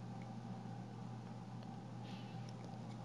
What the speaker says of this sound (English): We're gonna be driving this car now